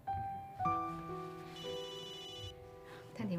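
A telephone rings in a Cantonese TV drama scene, its tone steady and fairly close amid sustained background music, with brief voice sounds near the end.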